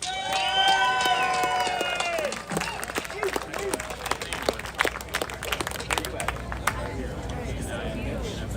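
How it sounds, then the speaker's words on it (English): An outdoor crowd at an armed Second Amendment rally at the Arizona State Capitol in Phoenix claps and cheers, scattered applause and shouts over background chatter, following an amplified voice at the start. "Please welcome, with a huge round of applause, Miss Cheryl Todd"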